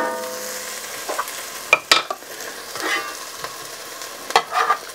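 Browned onions fry in a pan with fond built up on the bottom, a soft continuous sizzle broken by several sharp scrapes and clacks as a utensil stirs them.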